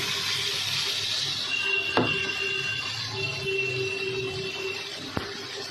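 Water swirled around a bowl holding leftover poppy-seed paste, then poured into a pan of pointed gourd posto; a steady watery rush with a couple of small clinks, no talking.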